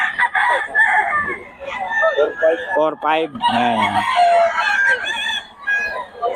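Roosters crow loudly and repeatedly nearby, overlapping one another, with a few brief words of speech mixed in.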